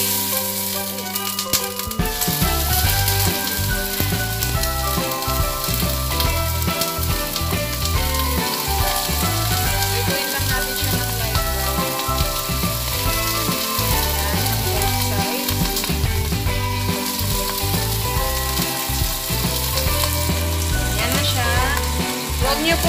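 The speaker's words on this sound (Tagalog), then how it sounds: "Prituin lang natin ng light brown lang siya." Food frying in a pan until light brown, a loud, steady sizzle filling the whole stretch with occasional stirring clatter underneath.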